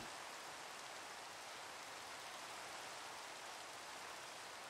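Steady hiss of rain in the Minecraft video game, a dense, even wash of falling drops that continues unchanged and without pause.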